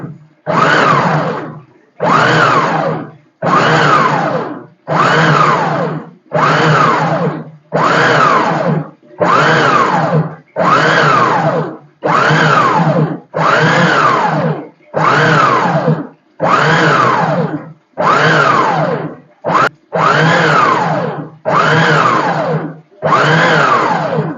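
A mixer grinder jar with an attachment grinds onions for a year's supply of chutney in about fifteen loud, close pulses, each roughly a second long with short gaps between, and no talk.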